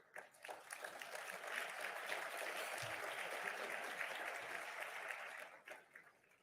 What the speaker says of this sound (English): I didn't even have to say applause.